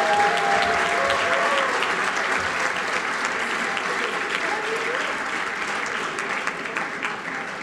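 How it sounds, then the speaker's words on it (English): Sustained applause from a large banquet crowd honoring Armenian evangelical ministers, a thick continuous roar of clapping that tapers slightly toward the end. "Give them a round of applause."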